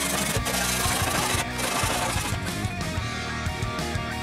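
Profile blanks and an aluminium sheet are sawn and filed by hand to remove burrs, making a loud, continuous rasping scrape with uneven strokes close up and no voices.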